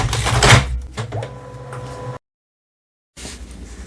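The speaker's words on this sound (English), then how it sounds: "Then close the tray." Paper input tray of an HP Color LaserJet Pro MFP printer being pushed shut, a few close plastic clacks and sliding rattles followed by a brief silence and faint room sound.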